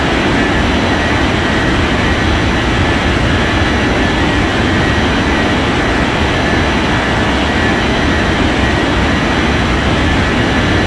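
Jet airliner roaring steadily on a runway during takeoff in the Unmatched Air Traffic Control game, a loud, constant broadband engine rumble that holds unchanged throughout with no voices.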